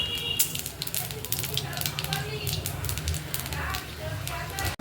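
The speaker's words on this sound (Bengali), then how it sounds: "তো দিয়ে দেব তেলের উপরে পাঁচ ফোড়ন" Panch phoron spices hit hot oil in a pan, crackling and sizzling close up with a dense stream of sharp little pops over a continuous hiss.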